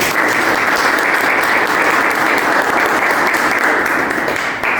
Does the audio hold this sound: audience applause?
yes